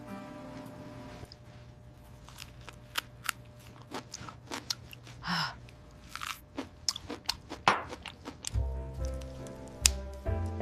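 Biting into a Chicago-style hot dog with a natural-casing Vienna beef frank in a bun with seven toppings: a quiet snap followed by scattered crunchy chewing clicks and squishes, close up, with no talking.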